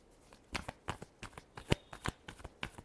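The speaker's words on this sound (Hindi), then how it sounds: "लिब्रा के लिए लास्ट शफल।" Tarot cards being shuffled by hand, a close, quiet series of about a dozen short riffling slaps and flicks in an uneven rhythm.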